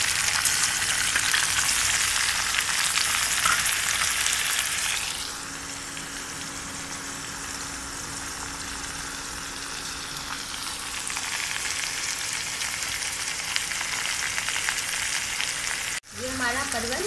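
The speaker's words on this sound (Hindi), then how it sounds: "और फ्राई कर लें।" Sliced pointed gourd (parwal) fries in a pan over medium flame, a loud steady sizzle that drops to a softer hiss partway through, swells again, and ends with a sharp knock.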